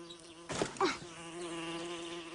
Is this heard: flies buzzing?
yes